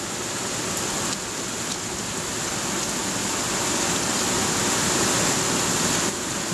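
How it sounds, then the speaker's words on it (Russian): Heavy rain falls steadily beside a wall outdoors, a dense, continuous hiss that stays loud and even throughout with no voices. "Вот это дождь. Минуту назад был даже сильнее."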